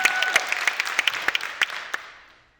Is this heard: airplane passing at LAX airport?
no